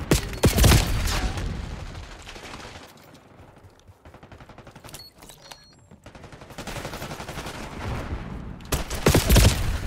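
PM Makarov pistol gunfire in Call of Duty: Black Ops 6, loud bursts of rapid shots at the start and end with quieter scattered shots and game ambience between.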